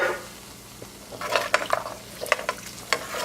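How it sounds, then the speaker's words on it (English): A spoon stirs coconut milk through a cooking mixture in a pot, giving soft scraping and clinking strokes in irregular bursts over a faint background sizzle, with no voices. "I'm just going to stir this all around now."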